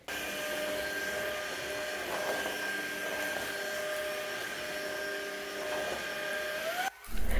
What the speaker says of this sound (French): Ce qui est bien avec cet aspirateur, c'est qu'il est équipé par la lumière